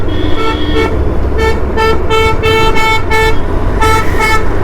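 Several vehicle horns honk repeatedly on a four-lane highway near Solan, in a string of short and longer blasts over a steady traffic rumble with no talk.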